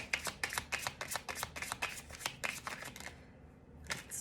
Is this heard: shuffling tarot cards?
yes